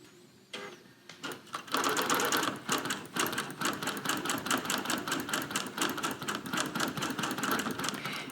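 A Bernina Q24 quilting machine stitches a T-shirt quilt on its frame, starting up after a few clicks and settling into a fast, steady mechanical rattle of needle strokes, close and continuous.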